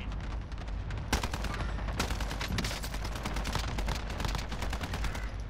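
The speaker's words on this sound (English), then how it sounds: "The other guy's shooting him." Rapid, dense gunfire from Call of Duty: Modern Warfare, with close automatic bursts and overlapping shots rattling almost continuously and staying loud throughout.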